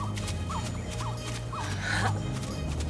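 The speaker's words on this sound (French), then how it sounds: "Pourquoi les oiseaux s'enfuient-ils?" Birds in a French Simba lion cartoon scatter amid dense chattering calls and fluttering wings, several short gobble-like squawks repeating over a loud, busy backdrop.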